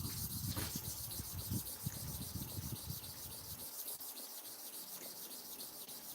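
A hair clipper blade is sharpened by hand, rubbed back and forth in quick, repeated gritty strokes that are fairly faint and close, with no talking over them.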